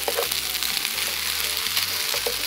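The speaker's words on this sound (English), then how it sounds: "It's sizzling." Assorted random foods sizzle and fry loudly inside a hot waffle iron, a steady close crackle with faint stirring clicks and no talking.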